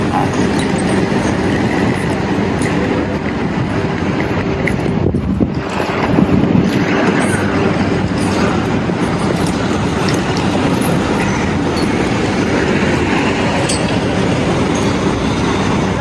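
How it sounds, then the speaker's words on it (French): Ambience inside the modern Orléans railway station in France: a loud, steady rumble of rolling train wheels and wind-like rushing noise, with a brief dip and swell midway and no voices. "Voici la gare d'Orléans."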